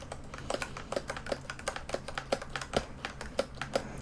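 Steady typing on a loud, clacky mechanical keyboard, with distinct close keystrokes at a brisk, slightly uneven rhythm and no voices.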